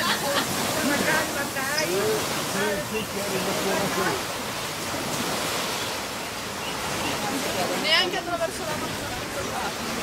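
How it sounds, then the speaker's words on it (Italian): Waves from the 2004 Indian Ocean tsunami surge with a continuous broad roar and gusts of wind noise, while people talk in Italian over it throughout. "Però guarda le onde là, guardate le onde là."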